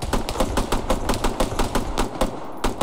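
Rapid bursts of gunfire from enemy troops on a hill in Arma 3, a dense, steady stream of sharp cracks packed closely together and continuing without a break.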